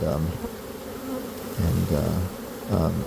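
A swarm of honey bees being scooped out by hand buzzes loudly and continuously up close, the drone swelling in pulses with no speech over it.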